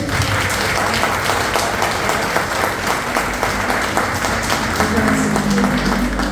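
A church congregation applauds, a loud, continuous wash of clapping filling the room, with voices mixed in throughout.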